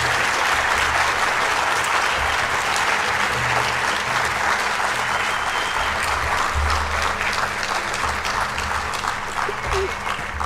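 Sustained applause from the audience at a National Honor Society induction ceremony for the candidates, a steady, even wash of many hands clapping for about ten seconds without letting up.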